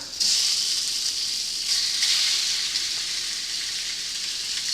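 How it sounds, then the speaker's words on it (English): Ground meat for chili browns in a pan with a loud, continuous hissing sizzle, close by and steady throughout, with slight swells in intensity. "By the time this meat has finished browning"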